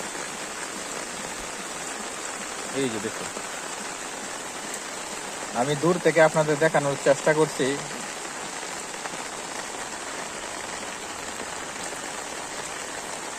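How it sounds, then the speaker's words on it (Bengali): Heavy rain pours down while floodwater flows over a road, a steady dense hiss of rainfall heard from a distance, with someone speaking briefly over it midway. "দেখুন কি পরিমাণে বৃষ্টি আর পানি, দেখুন কিভাবে যাচ্ছে।"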